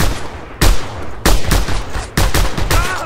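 Gunfire in the video game Just Cause 2, fired while holding a second weapon: four loud, sharp shots spaced roughly every half second, each followed by a short decaying tail.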